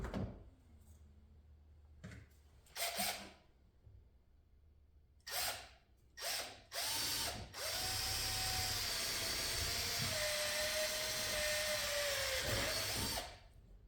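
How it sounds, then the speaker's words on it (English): Several short whirs and clunks from a power drill, then a long steady grinding drone as it bores slowly through steel, close and loud. "I like to start with a smaller drill and then work up to the final size."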